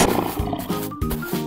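A lion roars in a few deep, growling pulses, close and loud, with no talking.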